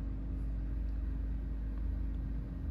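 A truck passing outside, heard as a steady low engine rumble and road noise that stays constant throughout, with no voices.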